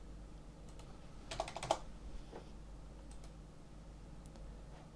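Faint computer keyboard typing, a short cluster of quick key clicks over steady background hum, then sparse single taps fading out.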